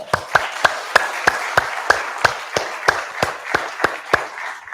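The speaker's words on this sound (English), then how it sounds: "I think we should need to clap for the jewelers and all of us together" Steady, evenly spaced claps ring out at an inauguration ceremony for AB Jewellers' professional skill development centre, about three sharp claps per second, fairly close and crisp with a light room echo.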